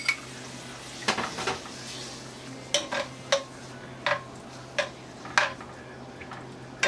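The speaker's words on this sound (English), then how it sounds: "I will go in with my ginger and my garlic. We kind of saute it with the shrimp because we want flavor." Ginger and garlic are sautéed with shrimp in a pan for vegetable shrimp noodles, giving sharp metallic taps and scrapes of a utensil against the pan at irregular intervals over a low background hum.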